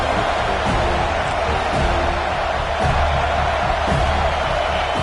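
A home crowd roars through a video game football broadcast, a dense steady wash of cheering with a faint murmur of talk underneath.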